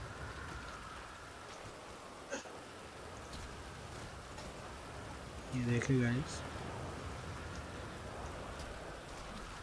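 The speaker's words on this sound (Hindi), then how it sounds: "गाइस, मौसम भी बारिश वाला हुआ है, तो बहुत ज़्यादा बारिश आ गई है।" Heavy rain in the GTA V video game, a steady dense hiss of downpour running throughout, with a voice speaking briefly over it.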